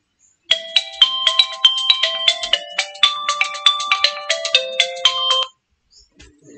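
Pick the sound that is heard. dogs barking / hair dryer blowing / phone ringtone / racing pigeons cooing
phone ringtone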